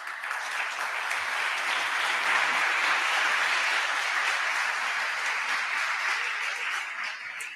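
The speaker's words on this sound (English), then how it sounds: "That's been the loudest round of applause I've ever gotten my entire life." A crowd at a criminal justice reform candidate forum gives the moderator a loud, dense, sustained round of applause, a continuous wash of many hands clapping at once with no talk over it.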